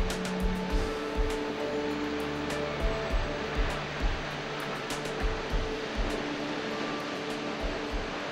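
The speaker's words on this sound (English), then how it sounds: "The Tat Phan waterfall originates in a small river running down the Bolaven Plateau and ends in a 120-meter abyss surrounded by wild jungle." Tat Phan waterfall on the Bolaven Plateau in Laos, where a small river drops 120 metres into a jungle abyss, gives a steady broadband roar of falling water, continuous and fairly loud, with scattered sharper splashes and low rumbles mixed in.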